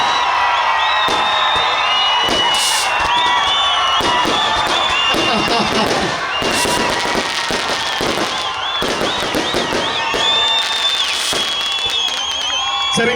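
A large outdoor crowd at a festival stage event claps and cheers loudly and continuously, with whoops and scattered sharp claps throughout.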